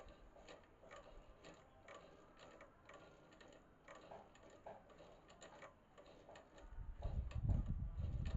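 An overlock sewing machine stitches through four-fold polyester cloth with a fast, faint mechanical ticking, followed by a louder low thump near the end.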